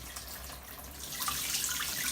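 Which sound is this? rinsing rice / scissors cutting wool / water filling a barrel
water filling a barrel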